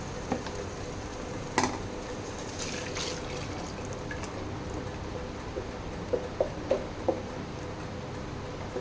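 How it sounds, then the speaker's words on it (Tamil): Water poured into a simmering white peas kurma gravy in a home kitchen: faint, quiet trickling and splashing with a few small drips and clinks scattered through, close by, with no talking. "குழம்புக்கு தேவையான அளவு தண்ணி ஊற்றிக்கலாம்."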